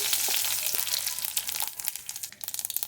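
Panch phoron spices for fried greens hit hot oil with a loud, crackling sizzle that begins dense and breaks into sharp popping spatters as it settles.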